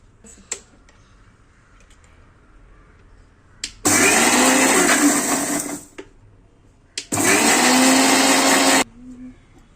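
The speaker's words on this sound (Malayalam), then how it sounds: "നമുക്ക് ഇത് മൂടി വെച്ചിട്ട് മിക്സിയിലിട്ട് അടിക്കുക" A mixer grinder whirs loudly blending red chilli chutney with tamarind in two bursts of about two seconds and three seconds, separated by a short pause, with faint clicks before each burst.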